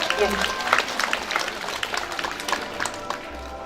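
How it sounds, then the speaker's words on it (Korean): Scattered applause from an audience at a volunteer festival award ceremony in Seocheon County, with talk and crowd noise running underneath throughout. "박수 한번 부탁드릴게요."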